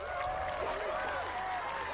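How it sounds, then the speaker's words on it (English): Ares campers cheer and clap as Clarice is chosen as champion in a Percy Jackson: Sea of Monsters film scene, a fairly faint crowd roar with applause that blends with background music. "Only the Ares kids were cheering when Clarice was chosen"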